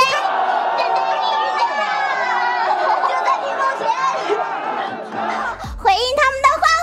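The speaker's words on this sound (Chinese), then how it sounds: "回应他们的欢呼，非常的期待" A large crowd at a live Bilibili World stage event cheers and shouts steadily and loudly throughout, with a host's amplified voice rising over the din near the end.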